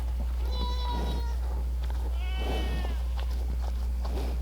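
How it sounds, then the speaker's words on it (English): Goats bleat a few times at a moderate distance, drawn-out wavering calls over a constant low hum. "The goats think I'm gonna feed them. They're over there yelling."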